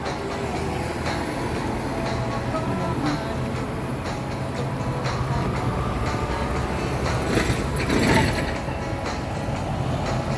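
A Singapore MRT metro train rumbles past near Paya Lebar with a continuous mechanical roar and faint rail clatter, swelling slightly near the end.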